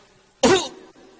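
A man gives a single short, sharp cough close to the listener, followed by quiet.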